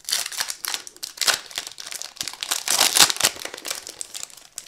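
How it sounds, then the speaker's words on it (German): Packaged false eyelashes being unwrapped close up, with dense crinkling and crackling of plastic packaging and a few snipping or tearing bursts, busy and continuous throughout. "Die werde ich jetzt auch nochmal schnell auspacken."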